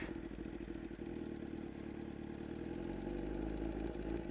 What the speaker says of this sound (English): I have my hand up here, and I'm going to release off the clutch.